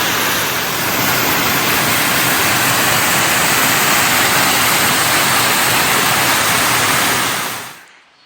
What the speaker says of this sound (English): Finally made it to Lady Barron Falls.